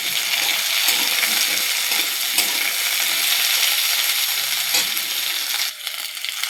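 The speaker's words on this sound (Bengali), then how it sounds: "তেল গরম হয়ে গেছে। ভেন্ডি, কাঁচা কলা আর পেঁপে একসাথে ভেজে নেব," Okra, raw banana and papaya crackle and sizzle steadily in hot oil, a dense close frying hiss that holds for several seconds with occasional stirring clatter, no voices.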